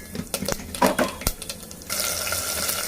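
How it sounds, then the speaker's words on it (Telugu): Tempering seeds hit hot oil in a pot on a stove: a few sharp clinks and stirring knocks, then a loud, steady sizzle that swells and holds to the end. "ఇప్పుడు మనం స్టవ్ మీద గిన్నె పెట్టి నూనె వేసి పోపు గింజలు వేస్తున్నాం."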